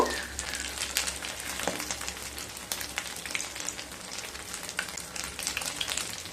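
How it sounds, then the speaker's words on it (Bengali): Chhana koftas frying in hot oil, a close, continuous sizzle peppered with crisp pops and crackles that carries on unbroken. "এইভাবে সমস্ত কোপ্তাগুলোকে ভেজে রেডি করে নেব"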